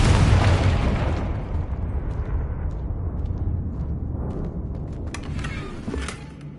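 Confringo fire spell explosions in the Hogwarts Legacy video game: a loud booming blast at the start that slowly rumbles away, followed by smaller crackling pops and bursts.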